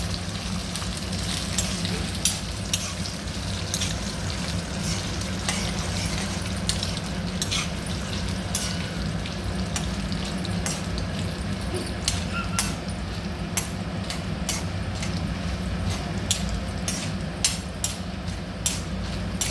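Dried red chillies frying in oil in a pan with chana dal and urad dal, a steady low sizzle broken by frequent light clinks and scrapes of a spoon stirring against the metal.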